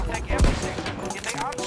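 A sniper rifle shot from a Battlefield game cracks out once, loud and sharp, amid continuous game noise, with a brief voice present.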